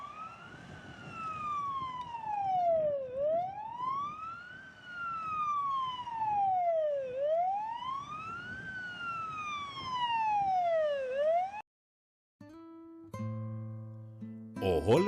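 An ambulance siren wails in slow rising and falling sweeps, loud and continuous for about eleven seconds, then cuts off abruptly, followed by brief unrelated tones.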